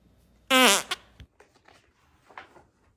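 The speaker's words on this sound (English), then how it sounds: "He just farted a lot." A long, loud, buzzing fart sound for a children's read-aloud story about a farting dog, followed by a couple of shorter, fainter puffs and small noises.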